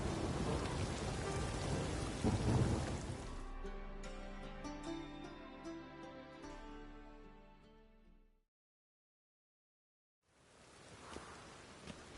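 Rain and rumbling thunder in The Witcher 3: a heavy burst of rain with a deep thunder roll fades into dripping, decaying tones, then falls silent before the rainfall returns softer at the end.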